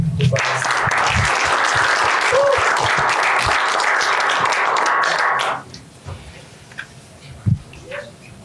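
Loud, dense applause from a live audience at a Marathi stage show featuring a lathi-kathi martial art performance, sustained for about five seconds before cutting off sharply into quieter room noise with scattered taps.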